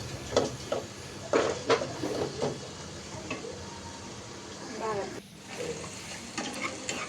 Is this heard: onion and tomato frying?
yes